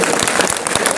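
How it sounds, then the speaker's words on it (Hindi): An audience at a BJP political rally claps in a brief, dense burst of steady applause, close and loud with no voice over it. "खाली जोरदार ताली बजा के अभिनंदन करे"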